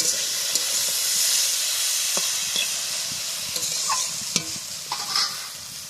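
Boiled taro fries loudly in a pan over a wood-fired stove, with a dense sizzling hiss, scattered pops and crackles, and occasional scrapes of stirring throughout.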